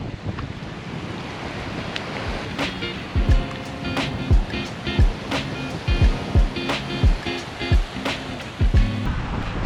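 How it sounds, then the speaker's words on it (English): Ocean waves wash onto a beach in December under strong wind, the surf a continuous roar with repeated thumping gusts of wind against the microphone and no voices. "walking along the ocean on a beach on December 2nd"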